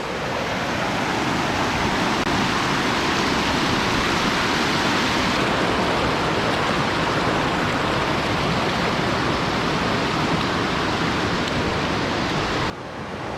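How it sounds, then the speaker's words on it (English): A cold mountain creek in the Cascades rushes loudly and continuously while someone wades across it barefoot, with no voices and an even wash of flowing water throughout. "Here goes this creek crossing. It is gonna be cold."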